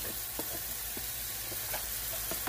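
Shrimp fry in a pan for a stir fry with a continuous close sizzle and occasional soft stirring taps, and no one speaks.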